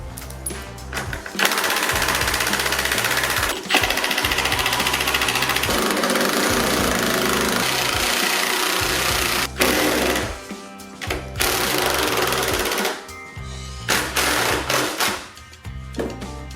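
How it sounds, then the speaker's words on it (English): Hammer drill driving bolts into a caster board on a JBL SRX-728S subwoofer, loud rattling bursts of hammering that start and stop repeatedly, close up. "Never trust the hammer drill"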